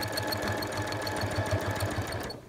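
A sewing machine runs continuously while stitching in the ditch along a quilting path on granny squares, its even, rapid needle rhythm close and steady before cutting off at the end.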